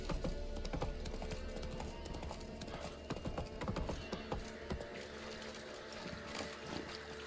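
Roach the horse gallops in The Witcher 3, a rapid, continuous clatter of hooves close by, with no voices over it.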